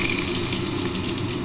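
Eggplant slices dropped into hot oil for a Bengali doi begun dish, a loud, steady rushing sizzle that holds evenly throughout, with no talking.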